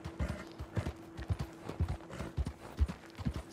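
Steady clip-clop of a large white mare's hooves in Red Dead Redemption 2, an even walking rhythm of sharp knocks with a faint low hum underneath.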